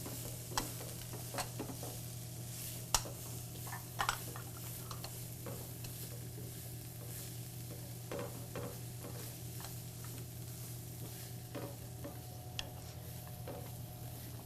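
Peppers cook in a pan for Mediterranean zucchini and shrimp, a steady low sizzle with scattered clicks and stirring scrapes over a constant hum, no voices.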